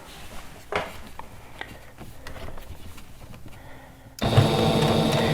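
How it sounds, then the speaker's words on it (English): A sewing machine stitching a fabric basket starts up after a few soft handling clicks and knocks, then runs in a loud, close, continuous whirring buzz through the final second. "let's put it under the foot and lock it down. All right, and let's start sewing"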